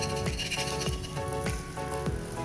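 Dhapate, a Maharashtrian spiced flatbread, cooks on an oiled griddle with a soft, steady sizzle and faint crackling pops recurring in a loose rhythm, close and quiet.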